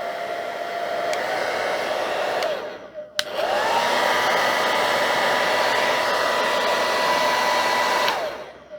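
A two-speed electric fan heater, a bit rough but working, blows steadily on its heat setting with a loud, close whooshing hum, cut briefly once by a click and dip before resuming and then switching off.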